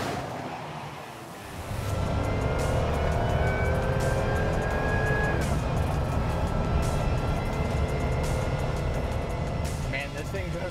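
A supercharged 2011 Toyota Tundra with the 5.7 engine cruising on the highway, a steady loud drone of engine and road noise that swells after a brief dip, with a whining tone rising over it.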